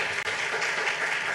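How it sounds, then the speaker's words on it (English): Audience at a storytellers and vendors forum applauds in a brief, dense burst of clapping that stays steady and fairly close throughout. "please a round of applause for this amazing leader"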